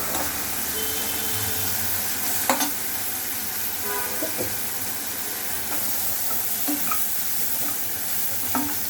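Onions sautéing in a pan for a crab gravy: a continuous sizzle of hot oil, with a spoon scraping and clinking against the pan at irregular moments, close and clear.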